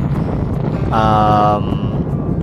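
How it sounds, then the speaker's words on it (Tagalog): Strong wind roars across the microphone on a mountain ride above a sea of clouds, a loud continuous buffeting rush with a brief whistling tone in the middle, close and unbroken. "Uy, grabe lakas hangin guys."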